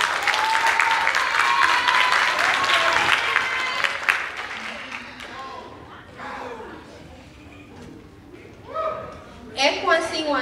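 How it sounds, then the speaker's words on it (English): Audience applause at a school district stage performance: a dense burst of clapping for several seconds that thins out and fades, followed by a voice talking. "Let's give a round of applause to Jayla."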